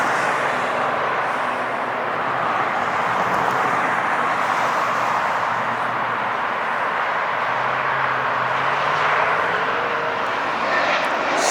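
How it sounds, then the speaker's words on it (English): A Swiss Air Boeing 777 airliner at LAX makes a loud, steady jet roar that stays constant and close for the whole stretch, with no talking. "Swiss Air 777, big bad boy, here we go."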